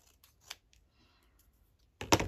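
Paper being cut with scissors while making a Christmas junk journal collage page: a couple of faint snips early on, then one loud, close, crisp cut near the end, with no talking.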